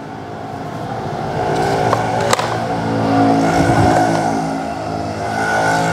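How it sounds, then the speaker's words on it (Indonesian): A 2012 Kawasaki Ninja RR motorcycle idles nearby, a loud, steady two-stroke engine drone with a slight swell in revs midway and a couple of brief metallic clicks. "Ini suara mesinnya halus banget"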